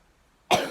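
A single short, harsh cough from someone with a sore throat, close and fairly loud after near silence.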